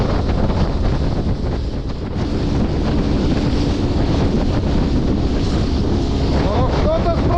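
A Ural boat pounds through big waves on open water in strong wind, with heavy, constant wind buffeting on the microphone and the rush of hull and spray, loud throughout.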